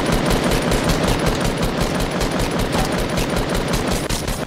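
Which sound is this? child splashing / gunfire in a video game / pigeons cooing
gunfire in a video game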